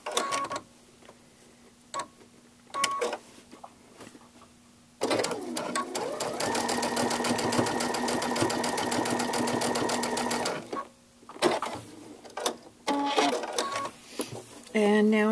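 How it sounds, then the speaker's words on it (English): A Brother sewing machine fitted with a DreamWeaver MuVit foot runs a steady rapid stitch through two pieces of fabric for several seconds, between quieter handling clicks and brief talk. "let's do some testing on the thickness by starting with sewing these two pieces of fabric together"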